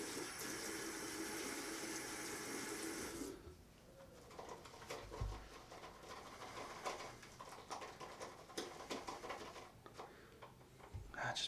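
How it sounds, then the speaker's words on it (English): Water splashes and runs during a shave. A steady rushing stream stops after about three seconds, then irregular drips and patters follow, with faint cooing birds in the background. "Do a splash of water here."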